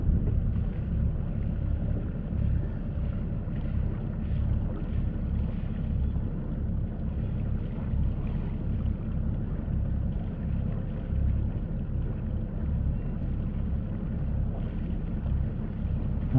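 A boat moves across open water in the wind, making a steady, close, low rumble with constant wind buffeting and no voices.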